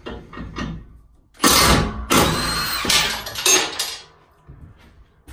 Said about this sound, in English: all that's needed to take these off is going to be impact wrench with a 3/4 inch socket